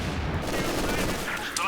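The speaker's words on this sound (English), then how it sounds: "You see a Maxim and an MG42 firing on each other." Maxim and MG42 machine guns trade sustained automatic fire in a Company of Heroes 2 battle, a dense continuous rattle of overlapping bursts with no pause.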